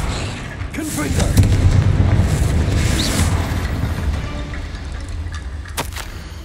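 A blasting-spell explosion in a wizard video game: broad booming bursts with a rumbling tail around the two-second mark, followed by a lighter sharp crack near the end, over steady game ambience.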